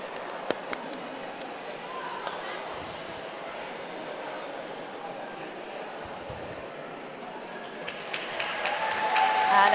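A roller derby crowd at a British Championships playoff game applauds and murmurs in a large hall, a fairly distant, even wash of clapping that swells louder toward the end.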